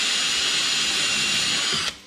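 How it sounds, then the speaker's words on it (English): A 3mm long drill bit boring a pilot hole for a screw in wood while making a stool gives a steady, close, loud whine that runs for almost two seconds and then cuts off abruptly. "Now we're going to use our 3mm long drill as the pilot hole for the thread for the screw."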